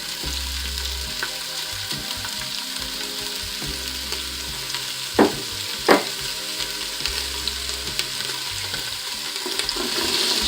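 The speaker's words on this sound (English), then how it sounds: "this is the first time I've ever sauteed on here" Onions and red peppers sautéing in an Instant Pot, a steady close sizzle and frying hiss with stirring scrapes and two brief sharp clacks midway, no voices heard.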